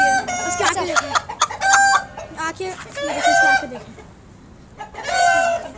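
A heavy aseel rooster crows several times up close, loud drawn-out calls separated by pauses, with clucking and someone talking in between.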